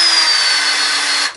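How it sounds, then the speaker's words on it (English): A power drill whines steadily at high speed for over a second, driving bolts through the ring end of a wrench while a van floor is fitted, then spins down abruptly; close and loud, no talk. "we could just drill in directly through the circle on the end of the wrench"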